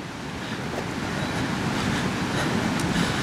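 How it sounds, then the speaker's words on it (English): A train passes outdoors on a cold valley walk, a broad, steady rumble and rush that builds slightly over a few seconds, mixed with wind. "There's a train."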